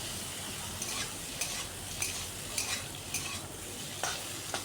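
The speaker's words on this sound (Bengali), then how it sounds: "পেঁয়াজটা ভাজতে ভাজতে যখন দেখবেন একটু কালার চেঞ্জ হয়ে আসছে" Onions frying in a pan, a soft continuous sizzle broken by regular scraping stirs about every half second, quiet and close.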